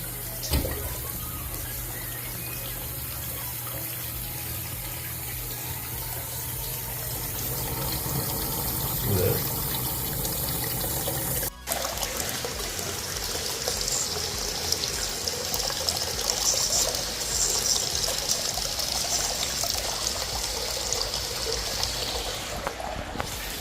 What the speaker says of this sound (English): So this is with the bathtub running.